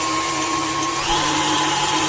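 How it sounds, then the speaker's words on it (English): A KitchenAid stand mixer fitted with a dough hook runs at medium speed kneading cinnamon roll dough, giving a steady, loud, high-pitched motor whine with a constant hum that shifts slightly partway through, with no talking. "10 minutes on medium speed, KitchenAid stand mixer, do your thing."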